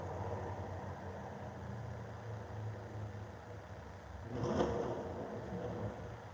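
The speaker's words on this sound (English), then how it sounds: "That sounds like a motorcycle." A faint, distant motorcycle engine hums steadily near an ocean beach, then swells briefly in a short rev before settling back, with no voices.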